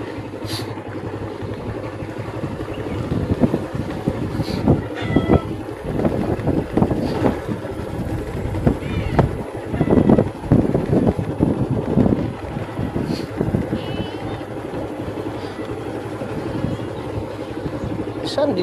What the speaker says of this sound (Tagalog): Ito lang gamit namin service, motor-motor